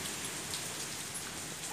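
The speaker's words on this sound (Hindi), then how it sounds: "खिड़की बंद कर दो बेटा, बारिश आ रहा है ना" Steady rain falls in a dense, even hiss with no letup, heard faintly from indoors near a window.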